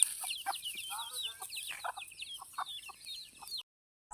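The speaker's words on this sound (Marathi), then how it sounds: "इथे कोंबडीची पिल्ले आहेत" Rapid high-pitched cheeping of chicks mixed with soft clucks, continuous and close, under a steady hiss, ending in a brief silence.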